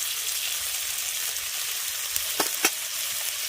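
Ginger, garlic and green chili paste frying with onions in a pan for koi fish malaikari gives a loud, steady close-up sizzle, broken by a couple of brief stirring scrapes, with no talking.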